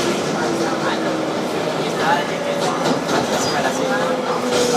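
A 2012 Kawasaki R-188 subway car on a Flushing Main Street bound 7 local train, heard from inside as a constant loud rumbling ride with faint rising whine tones and muffled voices.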